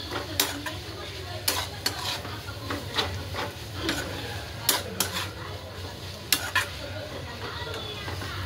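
A sabzi of drumstick leaves is stirred in a pan, a spoon scraping and clinking against the metal in a steady rhythm over a low background sizzle, with no one speaking.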